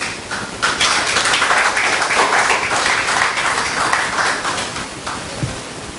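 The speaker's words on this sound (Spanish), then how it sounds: "Brinden un fuerte aplauso a Dios." Congregation applause during a Spanish-language church service, a dense, steady wash of clapping from a crowd that fills the full six seconds at an even loudness.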